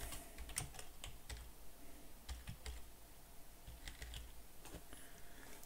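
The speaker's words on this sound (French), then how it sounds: "Si je tape un terme ici," Someone types a term on a computer keyboard, soft clicking keystrokes in short irregular bursts, quiet and close in an otherwise still room.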